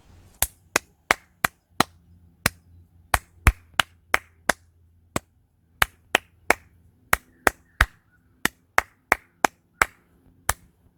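Hands clap a beginner sight-reading rhythm exercise together, sharp close claps in an uneven pattern of groups and pauses over a quiet room.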